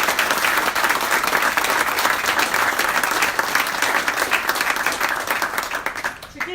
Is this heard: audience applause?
yes